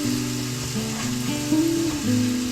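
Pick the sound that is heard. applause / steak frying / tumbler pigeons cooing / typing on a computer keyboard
steak frying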